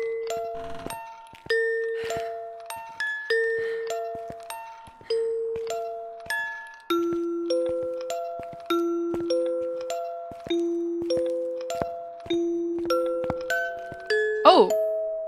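A cursed music box in the Phasmophobia video game plays a slow, tinkling melody of plucked bell-like notes, steady and clear throughout, with a brief voice near the end.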